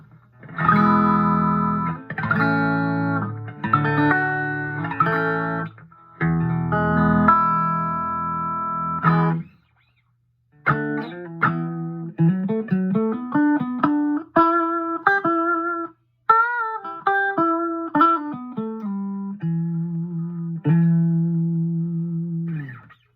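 Clean electric guitar through a Fender Mustang 1 amp emulating a '65 Twin Reverb, playing chords and then single-note melodic lines, bright and slightly effected, with a couple of brief pauses between phrases.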